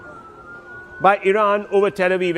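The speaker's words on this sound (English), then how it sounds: "And air raid sirens, you can beginning to hear them" Air raid sirens over Tel Aviv during an Iranian attack, a faint steady wail in the background, largely buried beneath a male news presenter's voice.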